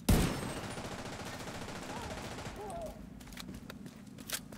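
Gunfire in The Division 2, a sharp loud shot at the start followed by rattling bursts and scattered pops under a busy background, with a voice briefly heard.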